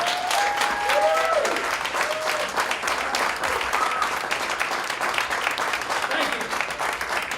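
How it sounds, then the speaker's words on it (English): Sustained, dense applause from a crowd at a business debut event for a talent company, steady and loud throughout, with a few whistles or cheers rising above the clapping. "let's give it up a nice round of applause"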